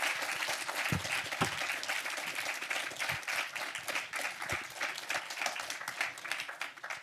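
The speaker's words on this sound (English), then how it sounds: "That gives you a big round of applause" An audience at an art symposium applauds two guest speakers, with steady, full clapping from a crowd throughout and a few sharper claps standing out near the mic.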